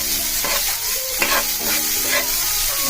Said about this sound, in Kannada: ಸೊ ಅದು ಡೀಪ್ ಫ್ರೈ ಆಗಲಿ, ಸೊ ಲೈಟ್ ಬ್ರೌನ್ ಆಗೋವರೆಗೂ ಫ್ರೈ ಮಾಡ್ಕೊಳ್ಳೋಣ